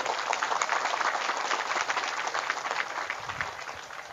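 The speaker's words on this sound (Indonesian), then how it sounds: "Tepuk tangan." Steady applause from an audience at a gathering with Islamic clerics and Banser guards in Indonesia, a dense wash of clapping that holds, then gradually thins and softens toward the end.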